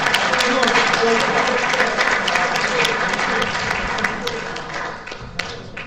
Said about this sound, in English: Give Rosebud a big round of applause.